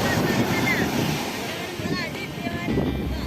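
Blustery sea wind buffets the microphone over steady surf at a seaside kite festival, with a constant rushing roar and faint voices and bits of activity in the background.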